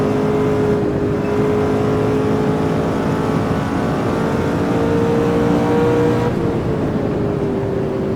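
A McLaren F1 engine drones steadily at sustained revs in the racing game Automobilista, a loud, continuous roar whose pitch shifts gently while the car is driven hard through corners.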